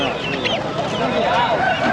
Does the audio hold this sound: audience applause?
no